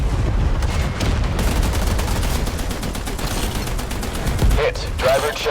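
A tank's smoke launcher fires in the MWT Tanks video game, releasing a burst of rapid, crackling shots over a rumbling low engine drone. Brief radio chatter is heard near the end.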